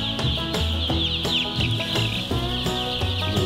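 A dense chorus of chicks and chickens on a pasture-based farm, continuous overlapping peeps and clucks, loud and close with no talking.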